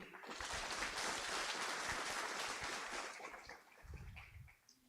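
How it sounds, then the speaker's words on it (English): A crowd at the University of Papua New Guinea claps in a dense, steady burst that tapers off toward the end, heard from a moderate distance. "let's give another round of applause to the government of the day"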